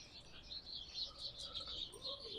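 Birds roost overhead in a small-town street, with busy, high chirps and tweets overlapping in quick, irregular bursts, faint and somewhat distant above a soft outdoor hiss.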